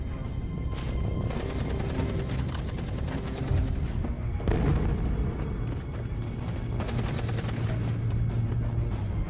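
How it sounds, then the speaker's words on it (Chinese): Two machine gun emplacements in the shooter game Fuse open up with dense, continuous rapid-fire bursts and heavy booming impacts, loud and unbroken across the whole stretch. "这个地方我们被两个机枪座台拦住了去路"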